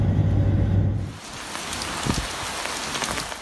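Rain falls steadily at night, a dense hiss of drops on surfaces, preceded by a low rumble that fades into the even patter.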